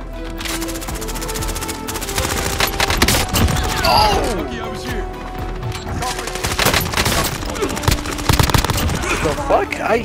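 Rapid automatic gunfire rattles through a battle-royale game match with gas closing in, sustained bursts and thuds layered over game sounds, with a voice talking at times.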